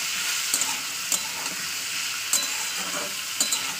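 Boiled carrots fry in hot oil in a pan with a steady close sizzle, broken by a few sharp clicks of a spoon stirring at intervals.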